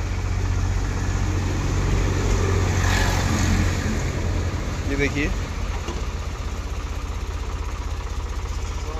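An Eicher 5660 tractor engine runs steadily at idle close by, a continuous low rumble with a brief voice speaking over it.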